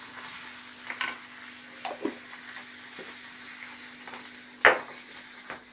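Honey hits a hot frying pan holding chicken steak and sizzles steadily at close range, with a few soft clicks and a sharper stir or scrape near the end.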